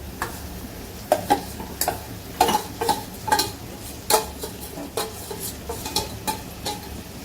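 A spoon stirs and scrapes a vegetable biryani masala mixture in a pan, knocking against the metal in a steady rhythm of clinks over a constant low sizzle of sautéing.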